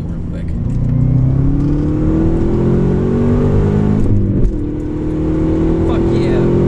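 A Subaru Legacy GT fitted with a Loud Valve exhaust pulls hard through second gear. The engine note climbs steadily and loudly, dips briefly at a shift, then rises again, close to the microphone.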